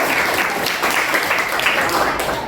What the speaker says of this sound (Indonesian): berikan tepuk tangan dulu untuk kelompoknya